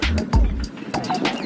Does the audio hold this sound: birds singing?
yes